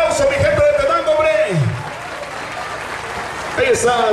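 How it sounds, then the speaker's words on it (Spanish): Crowd applause for San Martín de Porres at a night town festival in Tenango, clapping mixed with someone speaking over a loudspeaker, the claps swelling near the start and end. "Que se escuche fuerte y bonito el aplauso"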